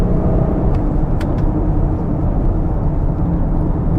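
A 2023 Audi RSQ8 driving on winding roads, its engine and road noise a steady, fairly loud hum heard from inside the cabin as it pushes past slower cars, with a couple of brief ticks.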